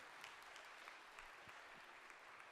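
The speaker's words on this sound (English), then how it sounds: "let's give some applause to Johnny." Audience applause at the close of a day of talks at the Euruko 2023 Ruby conference: a steady, fairly faint patter of many hands clapping throughout, with no voices over it.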